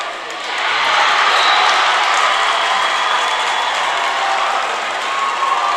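A Kouts high school basketball crowd cheers loudly after a three-pointer against Hebron, a sustained roar and applause that swells quickly and holds steady in a gym.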